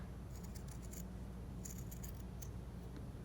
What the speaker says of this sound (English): So I'm just gonna come in here with my scissors and carefully trim out some of that